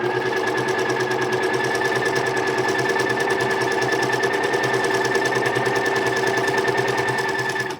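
A sewing machine runs a slow zigzag stitch at a low stitch length setting, its steady mechanical whirring and rapid needle clatter continuous and close for the whole stretch, with no voices.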